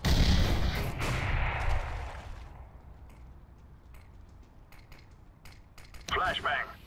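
A grenade explosion in CS:GO, a loud rumbling blast at the start that fades over a couple of seconds, followed by scattered clicks and footsteps and a short burst near the end.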